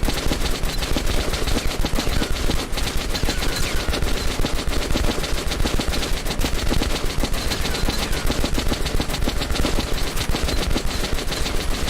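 Sustained rapid automatic gunfire from the Metro: Last Light Redux video game, dense continuous bursts at steady loudness throughout with no talking.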